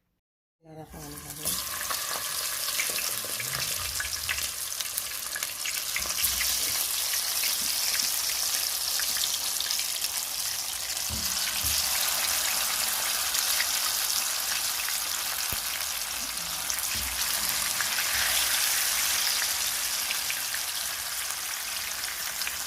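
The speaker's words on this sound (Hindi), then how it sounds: "अब हम इसको फ्राई करेंगे।" Marinated mutton chaap sizzles in a cup of hot oil over a low flame, a dense steady crackle that starts abruptly and holds loud and close throughout, with a voice speaking faintly underneath.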